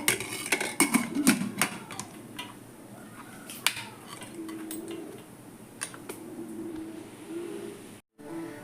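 A pressure cooker lid is fitted and closed over avial, with a quick cluster of close metallic clanks and rattles at first, then softer handling scrapes and a brief drop to silence.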